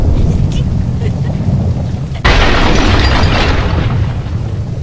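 A huge deep boom of the Colossal Titan's explosion, Armin's transformation in the Attack on Titan anime, erupts partway through over a low rumbling roar and then keeps raging as a loud, wind-like blast.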